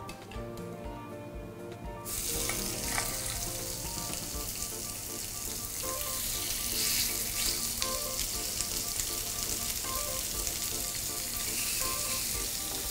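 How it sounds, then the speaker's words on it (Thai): Thin pork slices hit a hot grill pan with a little olive oil and break into loud, continuous sizzling and crackling that keeps going over soft background music. "นำหมูลงไปย่างค่ะ"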